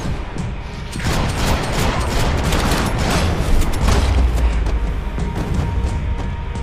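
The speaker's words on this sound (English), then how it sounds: "Gunfire over Hoboken." Sustained gunfire in a Max Payne 3 shootout in Hoboken, NJ, a dense continuous barrage of shots and booms with low rumbling impacts, loud and close throughout with no pause.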